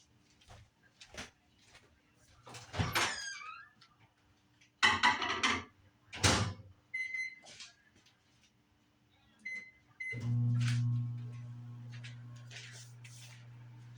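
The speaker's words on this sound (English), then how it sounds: "We'll heat this in the microwave." A microwave oven heats a chicken bacon cheese sandwich, its steady low hum starting abruptly and running for several seconds after scattered clatter and handling noises.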